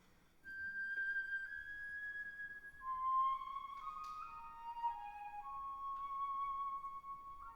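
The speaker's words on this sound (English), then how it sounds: "we could get a flute to play it a couple of octaves higher" A high flute plays a slow, smooth melody alone, holding each clear note before gliding to the next, with faint room noise beneath.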